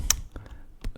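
Keys on a computer keyboard tap in a few sparse, quiet clicks during a software tutorial, with brief pauses between strokes.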